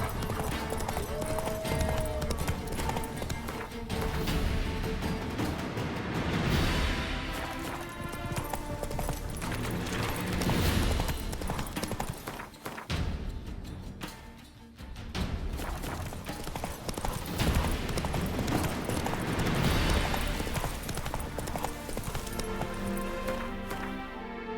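Roach the horse gallops in The Witcher 3, with continuous hoofbeats drumming under a dense, loud game soundscape of music and ambience, dipping briefly before picking up again.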